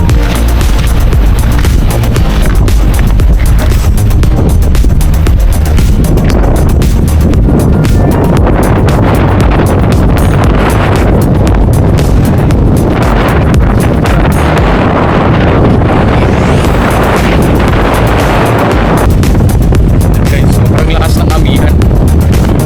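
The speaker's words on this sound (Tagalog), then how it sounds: "So ganito kalakas yung hangin guys." Very strong wind gusting off coastal rocks, a loud, constant buffeting roar that batters the microphone, with a voice speaking at times beneath it.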